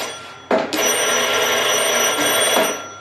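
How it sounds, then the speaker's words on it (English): A telephone bell rings inside a dinosaur park exhibit, a loud continuous metallic ringing starting with a knock and lasting a few seconds, nearby and alone. "makes the phone ring"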